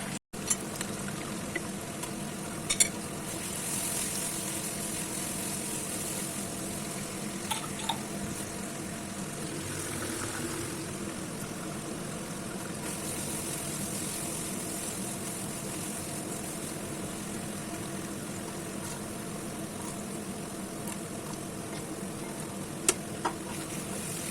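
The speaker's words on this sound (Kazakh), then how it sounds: "Еппен қуырамыз пиязды." Onions sizzle steadily in a hot pan for a long stretch, with a few faint clicks of a utensil and no voices.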